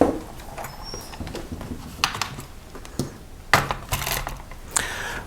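An Amiga 500 computer is flipped over and handled, giving scattered plastic clicks, taps and knocks at irregular intervals against a quiet background.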